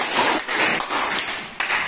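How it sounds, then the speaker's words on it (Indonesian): A short burst of applause, several hands clapping in a steady patter for under two seconds. "Beri tepuk tangan."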